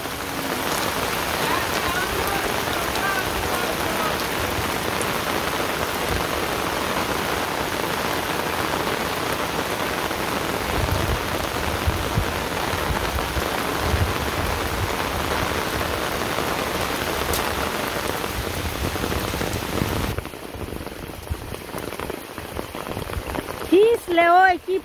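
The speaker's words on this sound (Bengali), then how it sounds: "কি খুব বৃষ্টি নামছে" Heavy rain falls steadily on surfaces outdoors in a constant, close hiss and patter that thins out near the end.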